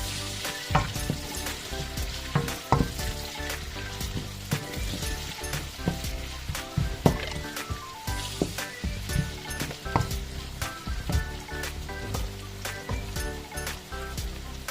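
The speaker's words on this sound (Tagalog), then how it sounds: "Gigisa na ako ng bawang sibuyas." Garlic and onions sizzle steadily in a hot pan, a dense crackling fry close by with occasional sharper pops and stirring clatter, and no talking over it.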